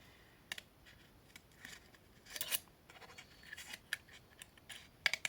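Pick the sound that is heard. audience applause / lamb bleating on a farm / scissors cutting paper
scissors cutting paper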